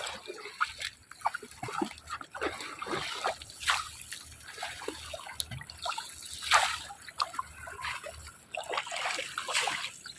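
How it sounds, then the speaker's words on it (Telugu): River water near a bridge is splashed and churned by hand to drive fish toward a net, giving repeated irregular close splashes and trickles at moderate level with no talk. "ఉసిక ఉంటే ఉసిక, రాళ్ళు ఉంటే రాళ్ళు నీటిలోకి వేయాలా"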